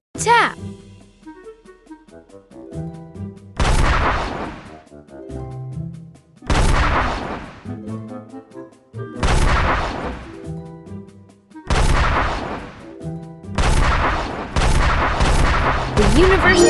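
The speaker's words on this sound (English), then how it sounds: "The universe began in a big bang." Big bang explosion effects in an educational science video game, several loud booming blasts repeating over cheerful game music.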